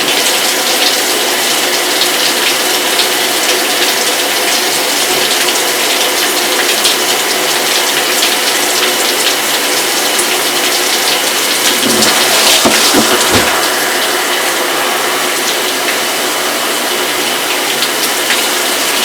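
A Delta shower runs with water pouring hard and steadily, a loud, dense hiss close by that goes on without a break and has some brief splashing thuds partway through.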